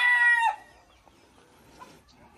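Chickens and a rooster in a backyard pen for ornamental birds and fowl, giving one loud burst of crowing and clucking at the start that quickly drops to faint, scattered farmyard noise.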